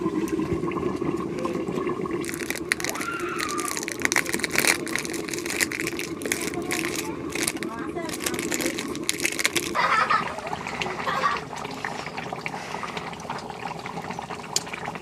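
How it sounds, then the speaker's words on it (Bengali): Country chicken curry with spice paste bubbling in a pot, a busy wet gurgling and pouring-like churn that continues throughout and turns brighter partway through. "মশলাটা দেওয়ার পর আবারও একটু ঢেকে দিয়ে তরকারিটা ফুটিয়ে নেব"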